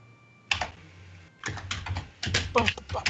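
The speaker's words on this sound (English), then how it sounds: "That's how your keyboard sounds." Computer keyboard typing in short bursts of quick, close key clatter separated by brief pauses, with a low background hum and some speech around it.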